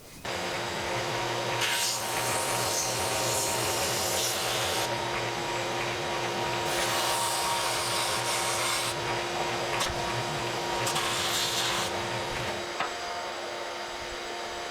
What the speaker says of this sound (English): We're going to go to the sander and do a little sanding